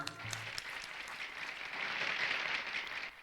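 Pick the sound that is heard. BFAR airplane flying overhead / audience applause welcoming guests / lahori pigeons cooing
audience applause welcoming guests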